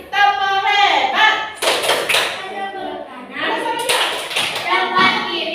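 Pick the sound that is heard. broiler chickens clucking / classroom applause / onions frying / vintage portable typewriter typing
classroom applause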